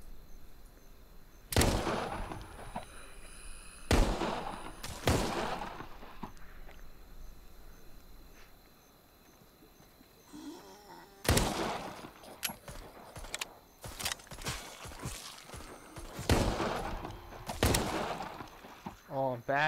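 Gunshots in the VR zombie shooter Arizona Sunshine, a handful of sharp, loud single cracks spaced irregularly, with a cluster of quicker shots later, with people talking between them.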